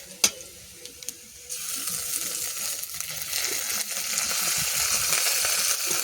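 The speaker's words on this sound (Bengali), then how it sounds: "এবার আদাটা দিয়ে দিচ্ছি।" Ginger dropped into hot oil with fried onions in a village kitchen, with a few small clinks at first, then a steady broadband sizzle that starts abruptly and holds loud and close to the end.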